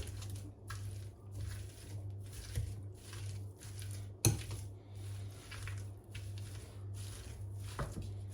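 Potatoes drizzled with oil are pounded with a hand masher, giving a run of soft, squishy, rhythmic thuds and faint utensil clatter, with one sharper knock midway, close by and fairly quiet.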